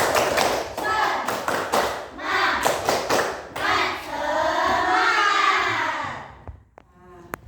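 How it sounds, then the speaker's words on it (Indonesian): A school class performs rhythmic spirit clapping, bursts of sharp claps in a patterned beat mixed with shouted chanting voices, loud and close, ending in a few scattered taps. "Coba bisa tepuk semangat nggak? 1 kali tepuk semangat."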